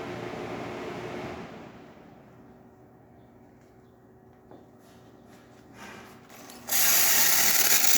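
A Jura coffee machine with a new thermoblock purges water through its steam wand after a quiet low hum, ending in a sudden loud, steady hissing spray close by.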